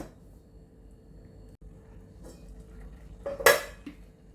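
A lid set down on a pot of mutton curry with green moong, a single loud metallic clank after a quiet stretch of low kitchen hum, with a faint clink just after.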